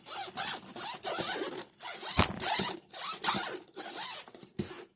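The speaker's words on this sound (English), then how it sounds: "that's good quality metal zippers" A metal zipper on a hard carrying case for an AYANEO 2021 Pro handheld game console is pulled open in several quick, rasping runs, close up and crisp, separated by brief pauses.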